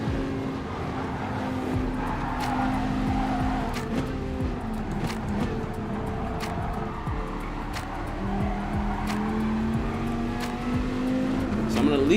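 Race car engine in Gran Turismo Sport drones steadily with shifting pitch, tires squealing at times, while someone talks over the continuous game audio.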